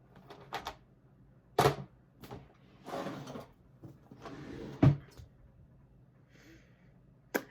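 Someone rummages through a top drawer, with scattered knocks, clacks and shuffling of objects at an uneven rhythm and two sharper bangs, all close and fairly quiet, with no talking.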